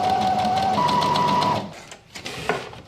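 Sewing machine running steadily as it stitches a folded pleat on a tailored suit jacket, a continuous near whir for about a second and a half before stopping, followed by faint handling noise.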